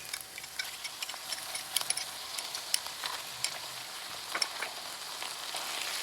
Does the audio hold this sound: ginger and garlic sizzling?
yes